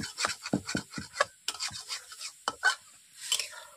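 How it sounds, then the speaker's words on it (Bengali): A spoon scrapes and rubs around a pan of small-fish curry with potatoes, a quick irregular run of close scraping strokes, then a few more separated by pauses, with no talk. "এভাবে আমি গুলে নিচ্ছি, দিয়ে নেড়ে নিচ্ছি"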